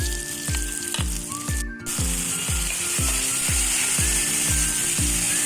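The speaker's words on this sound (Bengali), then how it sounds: "আদা পেস্ট দিয়ে যে মশলাটা তৈরি করেছিলাম সেটা এখন এখানে দিয়ে ভালো করে কষে নেব।" Onion, tomato and ginger-paste masala frying for a spicy Bengali mutton curry: a close, steady sizzle overlaid with regular rhythmic scraping thumps about twice a second.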